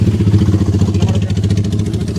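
A loud, close diesel engine chugging in a rapid steady rhythm, with a slight rise in pace.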